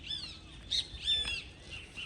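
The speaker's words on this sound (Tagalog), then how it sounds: "Ito may mga ibon" Several birds give short, high chirps and squawks in quick bursts, moderately close, with no talking.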